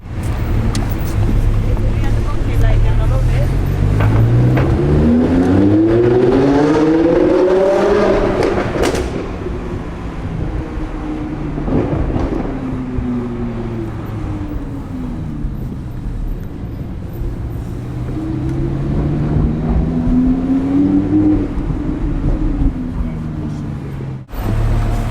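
A supercharged Audi R8 V10 Plus, 830 horsepower, revs loudly nearby, its engine pitch sweeping up and falling back twice in long climbs, with voices talking intermittently over it.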